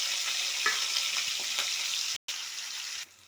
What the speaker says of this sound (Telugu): ఇంకొక కడాయి పెట్టుకొని ఆయిల్ వేసుకొని పన్నీర్ ముక్కల్ని ఫ్రై చేసుకున్నాం.